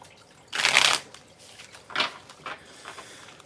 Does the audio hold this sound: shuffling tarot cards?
yes